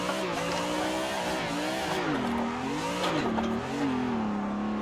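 Car drifting in a driving simulator game, with sustained tire squeal that bends up and down as the slide is held, and the engine revving underneath, steady and loud without any talk.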